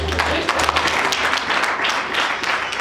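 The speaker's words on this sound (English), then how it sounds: "Clap your hand for Jesus." A church congregation claps hands during a sermon, loud rapid clapping with crowd voices and a low hum underneath.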